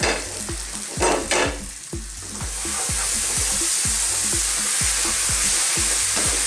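A pan sizzles steadily for an aloo keema, a minced beef and potato curry, before the beef goes in. Regular scraping stir strokes click through the loud, constant frying hiss, with no voices.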